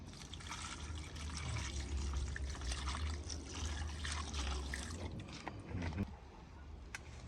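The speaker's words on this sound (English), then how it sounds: "Yes, I rinse off them here now, peeps." Tinned mackerel is rinsed under running water, a continuous close splashing rush of the stream that eases slightly toward the end.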